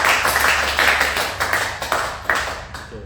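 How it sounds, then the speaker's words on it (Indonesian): Studio audience applause for a guest on an Indonesian talk show about cruise ship crew life, a dense steady patter of clapping across the whole moment with a few sharper bursts, close and fairly loud. "Beri tepuk tangan sekali lagi untuk Kak Sonya"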